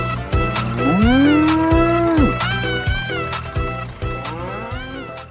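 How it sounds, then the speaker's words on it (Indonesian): A cow, white with black spots, lets out one long, loud, close moo that rises and falls, over a steady pulsing rhythmic beat of background music. "ini ternyata hewan yang namanya sapi"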